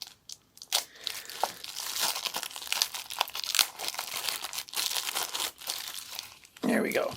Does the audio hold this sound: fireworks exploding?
no